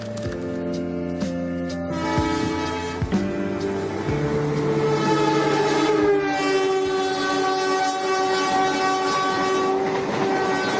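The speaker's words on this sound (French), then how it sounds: "Ces trains qui traversent Semarang et le Lawang Sewu" A train rolls past close by in Semarang, Indonesia, wheels clattering steadily, while a loud, sustained horn blares over it for most of the clip.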